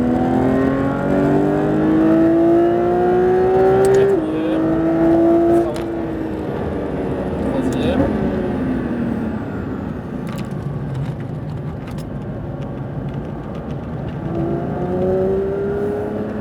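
Porsche GT3 RS race car engine revving hard on a circuit, rising pitch through gear changes with a loud sustained roar heard from inside, fading slightly later before climbing again.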